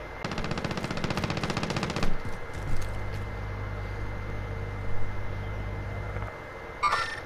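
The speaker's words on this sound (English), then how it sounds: "Is that you shooting?" Gunfire in the Call of Duty Warzone video game: a fast, loud machine-gun burst opens, then stops, leaving a low steady rumble and a few scattered knocks.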